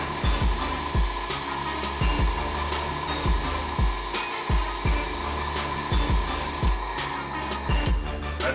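Continuous hissing rush of an Eclipse paint spray gun shooting color over a template held by magnets, steady and close, with a motor-like hum and rhythmic pulsing underneath and no talking.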